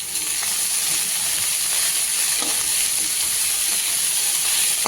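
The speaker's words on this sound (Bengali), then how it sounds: "শাকগুলো আমি আলুর সঙ্গে 2 মিনিটের মতো কষিয়ে নিচ্ছি" Pea greens sauté with fried potatoes in a pan, giving a loud, steady, close hiss of frying with faint stirring clicks underneath and no talking.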